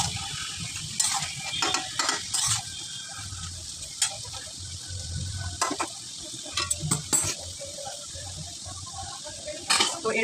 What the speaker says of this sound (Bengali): আস্তে আস্তে করে একটুখানি মাংসটা নাড়তে হবে